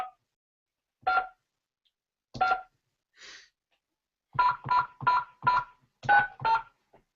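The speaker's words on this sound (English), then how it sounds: "So here I'm going to give it a call." Telephone keypad tones sound while a call is placed: two isolated beeps, a faint blip, then a quick run of six dialing tones in steady rhythm, clear with no talk.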